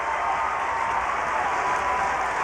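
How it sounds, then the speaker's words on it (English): Fans at a 6A high school football state championship game cheer for the Bulldogs at halftime, a steady wall of crowd applause and roar that holds level throughout. "their fans are on their feet almost to a person, cheering on their Bulldogs as they head to the locker room"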